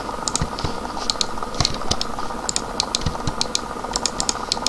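Rapid computer mouse clicks while building in a video game, an uneven stream of sharp little taps over a steady hum, close and alone.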